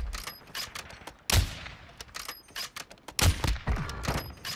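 Gunfire in a video game shooter comes in loud, sharp bursts, a heavy volley near the middle and another near the end, with scattered smaller shots and thuds between.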